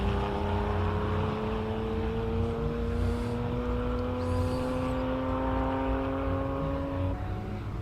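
Classic Porsche race car at the Simola Hillclimb, its engine note climbing steadily in pitch as it accelerates uphill, loud and continuous with a brief lift near the end.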